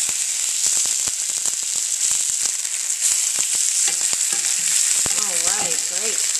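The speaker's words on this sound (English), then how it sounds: "It's perfectly seared on the outside" Sesame crusted tuna sears in a hot pan with a loud, steady sizzle and hiss, with scattered pops and crackles and a few brief scraping sounds near the end.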